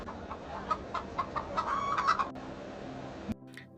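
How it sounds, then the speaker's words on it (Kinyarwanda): Chickens cluck in short, repeated calls over a low farmyard background, fairly near and moderately loud, with the clucking dropping away toward the end. "Sha, mbona ufite inkoko nziza cyane?"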